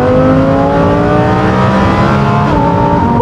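A Lamborghini Huracan Performante accelerates hard, its engine revving loudly and climbing through gears in a close, aggressive rush, with no talking.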